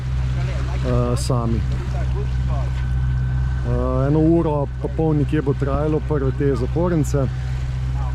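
A sailing yacht under way in the Panama Canal, its engine giving a steady low drone throughout while someone talks close by in Slovenian over it.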